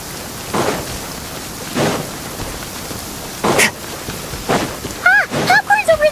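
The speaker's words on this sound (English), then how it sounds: "I like the rain." Steady rain falls in the Genshin Impact game world, a continuous wash of patter with occasional louder bursts, while game voices speak over it and chiming tones ring near the end.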